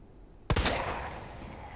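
A single sharp handgun shot cracks out loud after half a second of quiet in the Resident Evil 2 video game, its echo and ringing tail trailing off with a thin high tone.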